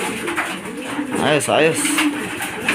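Racing pigeons in a loft coo close by in soft, rolling calls, with someone speaking briefly over them.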